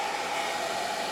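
A hairdryer blows hot air to soften the grease in a Canon FD 100-200mm zoom lens, giving a steady, loud whirring hiss with an even tone and no pauses.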